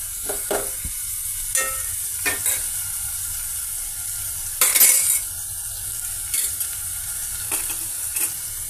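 A spoon stirs tomato paneer curry in a pan, mixing in red chilli powder. Soft sizzling runs throughout under scattered scraping clinks of the spoon against the pan, with one louder burst of sizzle midway.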